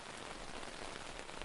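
Steady rain falls and patters on surfaces in a dense, even hiss, soft and continuous with no voices over it.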